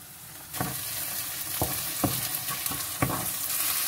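Rice frying with garlic in a pan hisses loudly and steadily, with about five sharp scrapes of a spoon stirring through it at a regular pace.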